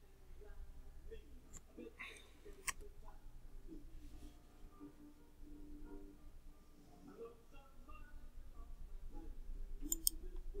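Sharp computer mouse clicks while working in design software on a mandala drawing, a few distinct clicks scattered among steady speech over a low background hum.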